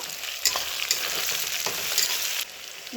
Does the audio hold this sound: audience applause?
no